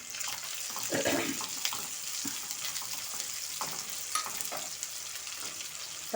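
Finely chopped green chillies sizzle in frying onions in a pan, a steady soft crackle and hiss with a few louder spits and stirring scrapes nearby.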